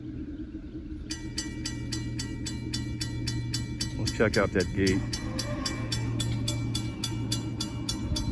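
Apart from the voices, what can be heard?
train passing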